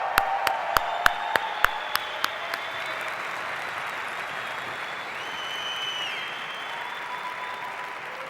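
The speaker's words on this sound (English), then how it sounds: "Give yourselves another round of applause" A few sharp, separate claps quickly swell into steady, sustained audience applause from a large crowd that carries on evenly.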